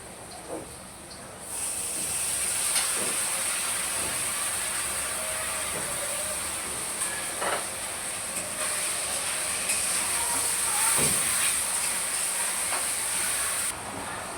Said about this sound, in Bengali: এখন দিয়ে দেবো আদা রসুন বাটা।